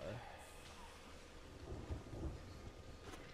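Thunderstorm in Sea of Thieves, faint rolling thunder with low rumbles and a steady hiss of rain, distant and quiet throughout.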